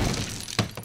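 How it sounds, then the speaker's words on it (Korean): A medium crash effect from a sound library, glass shattering and breaking in two sharp bursts near the end after a brief rumbling lead-in, close and isolated. "여기 이제 미디움 크래쉬. 네, 조금 중규모의"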